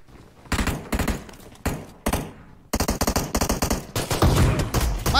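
Gunfire in a battle royale video game, with pistol and shotgun in play, rattles off in rapid, loud bursts of close automatic shots and separate heavy blasts, nearly continuous with short gaps.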